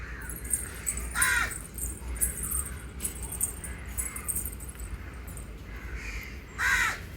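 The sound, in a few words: crow cawing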